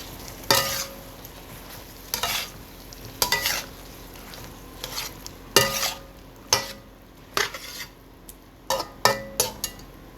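Eggplant pieces stirred into a frying spice paste in a pan for a fish and eggplant curry, with loud irregular scraping stirs and clinks of the spoon over a steady close sizzle.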